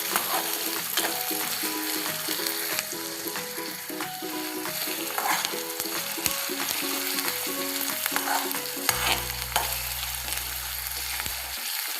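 Onion and mustard seeds sautéing in a pan for tomato chutney, a steady close sizzle and crackle with occasional stirring scrapes throughout, no voices.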